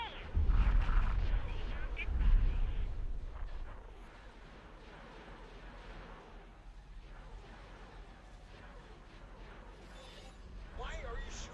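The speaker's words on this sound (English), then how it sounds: "Why are you shooting at me?" Booming blaster and cannon fire from a Star Wars space combat game, with heavy low bursts in the first few seconds, then a quieter rumbling battle bed and a brief sharp burst near the end, under occasional voices.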